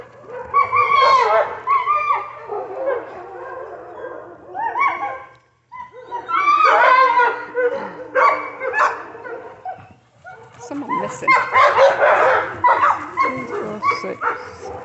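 Dogs bark and yip in repeated bursts across the clip, fairly close and loud, with short pauses between flurries.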